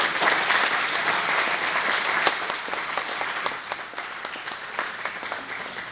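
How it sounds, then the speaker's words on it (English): A large crowd applauds at an evening ceremony, a loud, dense, continuous clapping that holds steady from start to finish and eases slightly toward the end. "big round of applause for the staff for their support"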